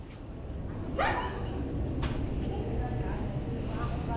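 A dog gives a few sharp barks and a yelp, close by and loud, around outdoor background noise, with someone shouting nearby.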